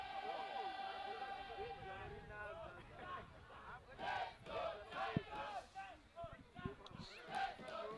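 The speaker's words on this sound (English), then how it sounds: "the PE boys are very lively for this game as they've woken up and they are now singing, cheering the boys on" Prince Edward schoolboys sing and cheer in a loud, rhythmic mass of voices at a Zimbabwe schoolboy rugby match against Eaglesvale, the chanting pulsing in bursts with crowd babble throughout.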